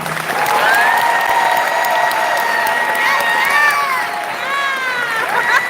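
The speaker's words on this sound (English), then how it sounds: "Please join me in giving these outstanding student athletes one last round of applause" A graduation audience applauds its outstanding student athletes with a dense, loud, sustained wash of clapping, with cheering or tonal voices threaded through and carrying on for several seconds.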